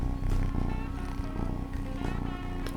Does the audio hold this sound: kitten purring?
yes